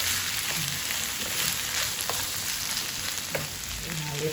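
Long beans and pork sautéing in a pan give a steady, close sizzle and frying hiss, with a few faint clinks from stirring and no talk.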